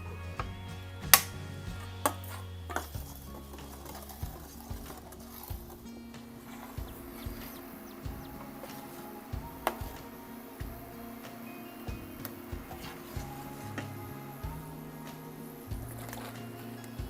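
A utensil stirs a pot of simmering Thai field-snail curry, making soft, steady ticking knocks against the pot that repeat through the whole stretch. The sound is quiet and close, with no talking.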